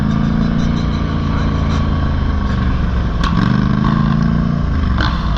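Two ATVs, a Can-Am 450 XMR and a Polaris Scrambler 850, idle and rev loudly up close, with a steady low engine drone and a rising rev partway through, without any talk.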